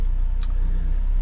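The engine of a carbureted truck fitted with a phenolic carburetor spacer runs just after a hot start, giving a loud, close, steady drone with little variation over about a second.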